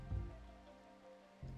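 Rain falling in RimWorld, a soft steady patter on surfaces, faint and continuous over a short span with no voices.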